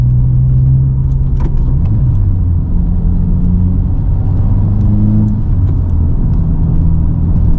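A 2023 Subaru WRX (VB) with an AWE Track Edition exhaust drones low and deep under throttle, its exhaust rumbling close and loud, the pitch shifting a few times as the revs change.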